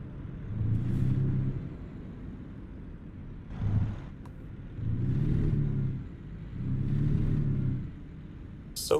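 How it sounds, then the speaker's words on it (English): Simulated truck engine in American Truck Simulator rumbles at a steady idle, swelling louder three times in slow waves with a low drone, alone without talk. "Wow, you can really hear the engine when you turn all the way around."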